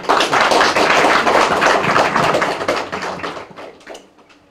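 Applause from the audience at a Gyeongnam branch policy debate for Korean Pharmaceutical Association president candidates. A dense, steady wash of clapping holds loud for about three seconds, then thins and fades toward the end, with no talk over it.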